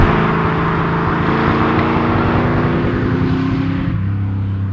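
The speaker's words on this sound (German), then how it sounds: "Und ihr hört schon, macht einen riesen Lärm das Auto." A 1972 De Tomaso Pantera with its 5.8-liter Ford Cleveland V8 idles loud and close, a deep, steady rumble that drops to a lower, smoother note near the end.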